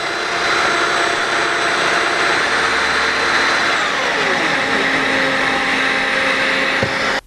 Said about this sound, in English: the Domino XL has a rotating cutter, and as it rotates, it spins side to side, hollowing out material to create a mortise